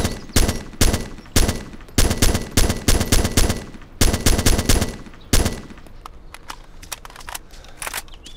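Gunfire in the video game Arma 2, loud rapid automatic bursts in clustered volleys for about five seconds, then sparser single cracks and a few distant shots.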